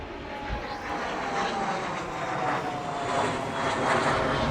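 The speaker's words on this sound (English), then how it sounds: "There goes my jet." An aircraft flying overhead near an automotive customization shop, a steady broadband engine roar that swells slightly as it passes, with no voices.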